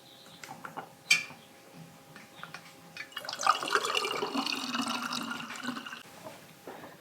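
Kombucha being strained, a faint pouring trickle of liquid that starts after a few small clinks and drips and grows into a steady close splashing stream before trailing off.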